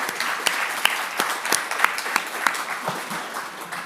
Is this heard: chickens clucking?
no